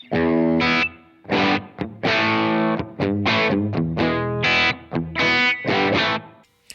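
Distorted electric guitar through an amp using its first factory cab sim preset, played as loud, choppy chords and notes with a roomy tone, close and alone.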